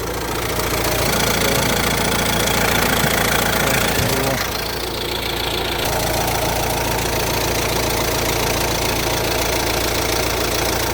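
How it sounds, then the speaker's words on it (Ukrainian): A 1.6-litre single-turbo diesel Renault Trafic passenger-cargo van idles steadily just after starting, its engine knocking and rumbling loudly and continuously close by, with a brief shift in tone partway through. "Так, машинка заводиться без питань,"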